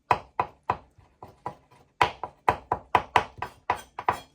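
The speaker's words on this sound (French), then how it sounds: "je vais hacher la pulpe" A knife chops preserved lemon pulp on a cutting board in a steady series of sharp, close taps, first slower and sparse, then a quicker regular run of about a dozen strokes.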